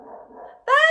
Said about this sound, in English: I don't think it's been a video without him barking in it